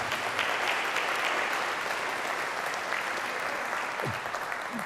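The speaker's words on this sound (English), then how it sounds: "You can give him a round of applause." Church congregation applauding a music director at a jazz vespers service, a steady wash of many hands clapping that holds at an even level throughout with no voices over it.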